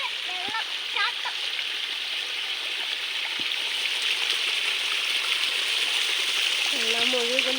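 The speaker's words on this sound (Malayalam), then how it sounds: "അവിടെ വെള്ളം ചാട്ടം" Floodwater rushing and spilling in a steady, broad wash that fills the whole stretch, with faint voices or calls breaking through briefly near the start and end.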